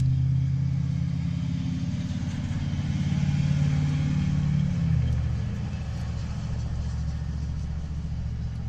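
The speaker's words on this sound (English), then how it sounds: "Awful lot of traffic right now, I guess because it's end of the day." End-of-day road traffic rolls past, a steady low engine rumble as cars go by, one vehicle swelling louder before fading.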